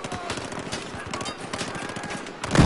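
Rapid gunfire in the video game Battlefield 4, dense bursts of automatic shots in quick succession, fairly loud, ending in a heavier blast.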